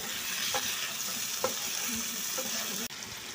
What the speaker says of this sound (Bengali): এগুলো প্রত্যেকটা উপকরণ একসাথে দিয়ে নেড়ে ছেড়ে এগুলো ভেজে নেব।